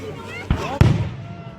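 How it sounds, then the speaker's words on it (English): Fireworks burst at a baseball field show, with two booming pops in quick succession, the second louder and echoing, while the crowd murmurs in the background. "Got some fireworks coming off,"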